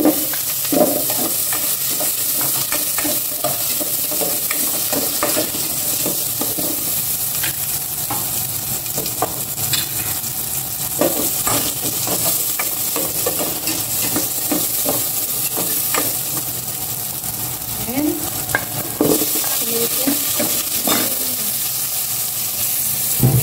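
Garlic sizzling in hot oil in a pan, a continuous bright frying hiss with frequent crackles and pops and occasional scraping stirs, close and loud with no talking.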